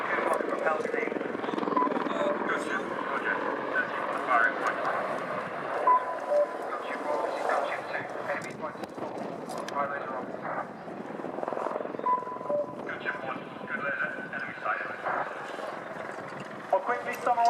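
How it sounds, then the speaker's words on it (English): An Army Air Corps Apache attack helicopter roars continuously overhead during a flying display, its rotor noise rising and falling as it maneuvers, loud with wind buffeting the microphone. "this is the attack helicopter display team, demonstrating the capabilities of the Apache"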